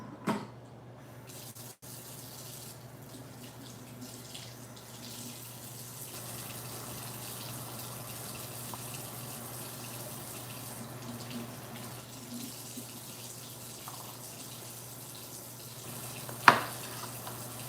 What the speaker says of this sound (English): So I'm gonna wash these off real quick over here.